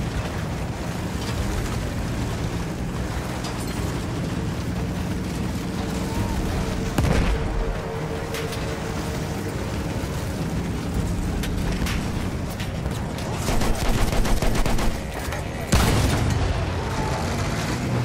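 Battlefield 1 campaign trench combat with repeated booming artillery and gunshots over a dense, rumbling battle din, with several sharp loud blasts standing out.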